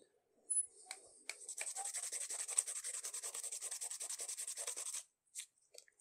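Coarse 60-grit sandpaper is rubbed briskly over a wooden bow tie that was shaped with a rasp: a close, steady run of quick scratchy back-and-forth strokes for several seconds, then a few isolated scrapes, with no talking.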